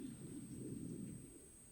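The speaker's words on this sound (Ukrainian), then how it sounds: "А, це вода так шумить." Steady low rushing of water on a mild day at a riverside pike-fishing spot, a faint continuous broadband roar with no voices and no distinct events.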